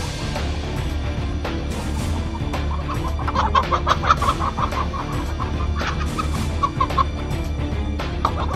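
A farm flock of chickens clucks steadily and close by, with overlapping calls over a constant low background rumble.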